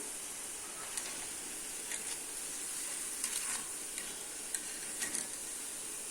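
Urad dal vadai frying in oil produce a constant bright hiss and crackle, close and fairly even, with a few faint taps of a utensil turning them in the pan.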